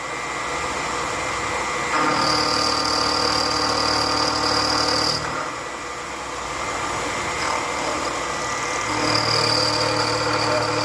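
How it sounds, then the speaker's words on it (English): A milling machine fitted with a sharp carbide cutter runs and cuts, a steady motor drone broken by louder, higher-pitched whining passes as the cutter bites the part and eases off, close and without speech. "Once you set this mill up and you get it running good, you get a good sharp carbide on it, you can make parts pretty decent."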